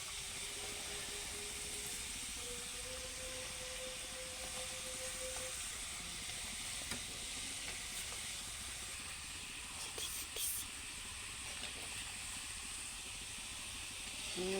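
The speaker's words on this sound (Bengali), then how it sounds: "একে একে সবগুলো ভেজে নিচ্ছি" Nimki pastries deep-frying in oil make a continuous, fairly quiet hissing sizzle that holds steady throughout, with occasional faint pops.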